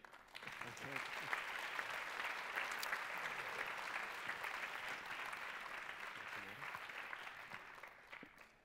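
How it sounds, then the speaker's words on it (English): Audience applause fills a summit hall as delegates walk onto the stage, a dense, sustained wash of many hands clapping that holds steady throughout before easing slightly at the end; heard from a distance at low level. "We'll probably have to keep that applause going"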